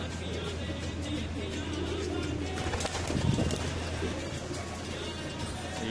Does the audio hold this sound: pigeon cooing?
yes